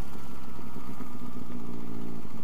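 A motorcycle engine runs steadily on a descent toward Valencia, a continuous loud mid-pitched drone with faint clatter and no speech over it.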